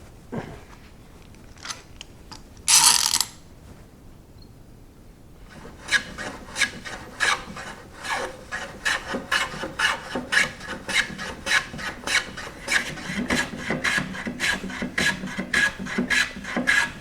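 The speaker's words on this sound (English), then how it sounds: "I'm just going to get everything sanded" A wooden shutter slat is sanded by hand in steady, rhythmic rasping strokes that build to a fast, even pace after a short, loud scraping burst and a quiet pause.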